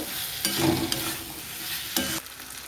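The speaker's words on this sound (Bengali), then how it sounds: "এবারে আমি ভেজে রাখা আলুগুলো দিয়ে দেবো আলুগুলো দিয়ে কিছুক্ষণ কষিয়ে নেব" Fried potatoes being sautéed in a pan of spiced tomato masala for a prawn curry, a steady sizzle broken by several scraping stirs of a spatula against the pan.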